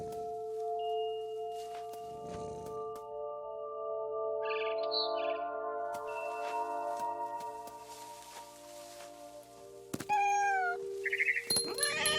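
In the video game What Remains of Edith Finch, a cat meows a few times near the end, loud and close, over steady electronic game music that plays throughout.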